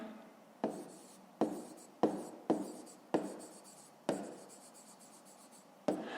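A pen scratches on paper in short bursts, each stroke starting sharp and trailing off, about seven separate strokes, close and quiet with no talking.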